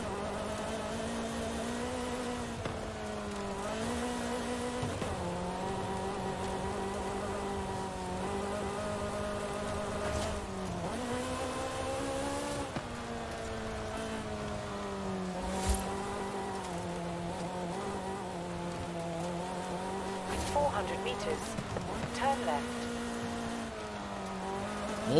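Ferrari driven off-road in the racing game Forza Horizon 5, a steady engine drone with shifting pitch and gear changes, plus gritty surface and splashing noise underneath, continuous and fairly loud throughout.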